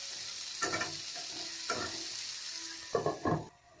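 Chopped tomato cooking in a pan for chicken curry, a steady sizzle with several short bursts of stirring and scraping, the last pair close together before the frying quiets.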